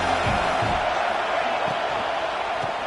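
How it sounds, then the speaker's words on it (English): A roaring stadium crowd in an NCAA college football video game, Penn State against Tennessee, fills the whole stretch as a steady dense wash of cheering and noise. "This crowd bringing the energy and noise early."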